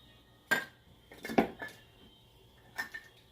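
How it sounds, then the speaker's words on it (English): Kitchen clatter while mixing meatball soup ingredients in a bowl: a few sharp utensil-on-dish clinks and knocks, close and alone, in three quick bursts. "I'm going to add 1 egg."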